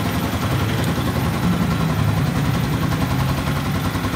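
An old Yamaha Jupiter MX motorcycle running a non-limit ignition idles close by, a steady, loud putter with a rough, even pulse throughout.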